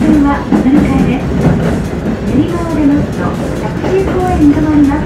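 A Seibu Railway train departing Ikebukuro and curving right gives a low rolling rumble with faint rail clatter and wheel squeal. Someone talks over it throughout.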